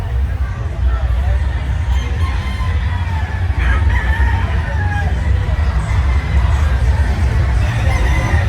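Thundercock stag gamecocks crow at a crowded gamefowl expo in the Philippines, with several loud crows and scattered clucks rising over constant crowd babble and nearby talk.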